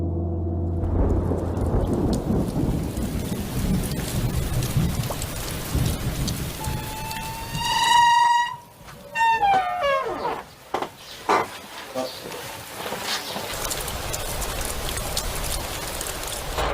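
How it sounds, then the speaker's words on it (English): Rain pours steadily outdoors near a Shaolin temple training ground, a dense continuous hiss with heavy drops, while a bird chirps briefly partway through. "It's raining today, so Master Yansen changed the training place"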